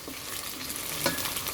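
Garlic and onion fry in a pan with a steady, close sizzle and a brief stir partway through, with no talk over it.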